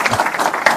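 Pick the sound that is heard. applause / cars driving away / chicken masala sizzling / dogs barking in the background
applause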